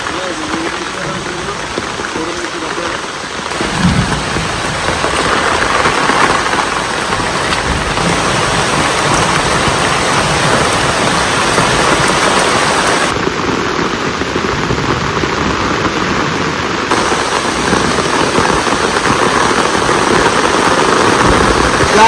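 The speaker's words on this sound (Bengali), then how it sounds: "যা জোরে বৃষ্টি হচ্ছে," Heavy monsoon downpour in a village pours in a dense, loud, unbroken roar of rain on surfaces, with voices talking faintly under it.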